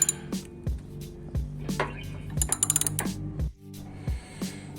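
A ratchet loosening the nuts that hold down a Subaru's main fuse, with a rapid run of clicks in the middle, metallic clinks and taps before and after, all close and without talk.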